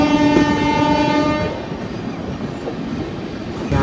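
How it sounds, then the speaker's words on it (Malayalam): The Thiruvananthapuram Rajdhani Express slows near a rail junction in Rajasthan. A horn sounds at the start, then the carriages keep up a steady, close rumble and clatter. "ഇപ്പോൾ ട്രെയിൻ കുറച്ച് പയ്യെ പോകുന്നു."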